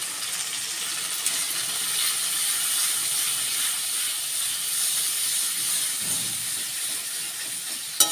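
Ground spices and a splash of water hit a hot pan for a fish-head and cabbage curry, releasing a loud, steady steamy hiss that holds evenly throughout with a small clink near the end.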